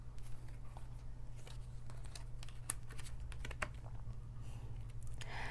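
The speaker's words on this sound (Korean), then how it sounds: "그럼 전체운 카드 펼치겠습니다." Tarot cards are spread out across a surface in a run of light clicks and papery taps over a low steady hum, close and with no talking.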